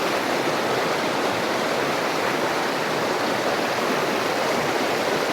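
Creek rapids rushing through an old spillway, a dense steady broadband roar of white water with no breaks, close and loud throughout.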